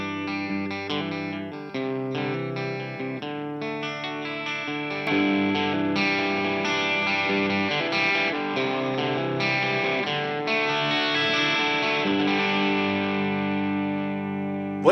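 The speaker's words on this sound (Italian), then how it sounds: "Basta alzarlo per ottenere un suono crunch che di fatto simula il comportamento di un amplificatore valvolare nel punto di breakup." An electric guitar plays chords and notes through a JHS Morning Glory overdrive pedal set for a crunch tone, sustained and fairly loud for about fifteen seconds. No one speaks.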